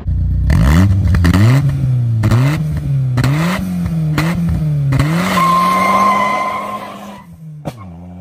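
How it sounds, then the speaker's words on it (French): A 2-litre turbocharged Nissan Stagea pulls hard through several rising engine sweeps, loud and close from inside the car, with a turbo whine toward the end and a brief lift-off near the finish. "Petite accélération."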